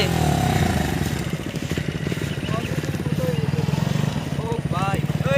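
A motorcycle is ridden off-road through water, its engine chugging steadily and loudly throughout while people talk and shout over it.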